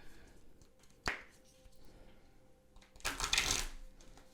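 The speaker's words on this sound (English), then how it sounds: "I'm just going to give it a shuffle." An oracle card deck is shuffled in one short burst of riffling, papery rustle, preceded by a single sharp tap, in a quiet room with no talking.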